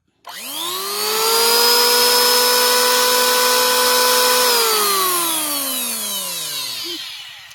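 MASAKI 1900B two-blade electric wood planer, 870 watts, spinning up to about 23,000 rpm: a sharp start, a loud steady high whine held for several seconds, then a falling pitch as it winds down, running alone with no voices.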